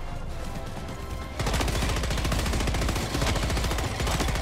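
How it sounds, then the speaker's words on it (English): Rapid automatic gunfire aimed at the player in the game Helldivers 2, a dense unbroken burst of loud close shots that picks up sharply after a quieter opening stretch, with no talk. "Who is shooting at me right now?"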